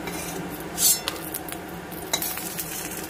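Dried chillies being mixed in a cooking pan: a few close scrapes and clinks of a utensil against the pan over a faint, steady sizzle, with one brief louder scrape.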